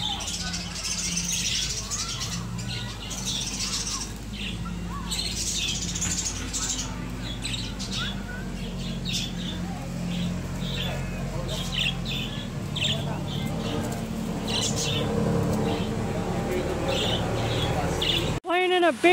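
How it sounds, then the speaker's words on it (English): Birds chirp and tweet intermittently in an outdoor setting, mixed with distant traffic rumble and people talking nearby. "There's some birds."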